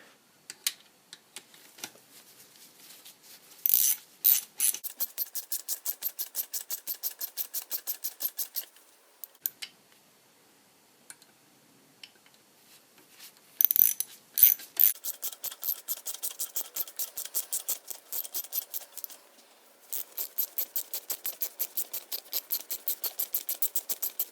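Bolts on a Honda VF750F oil pump are tightened with a ratchet wrench, giving bursts of rapid, crisp clicking close up, separated by short silent pauses.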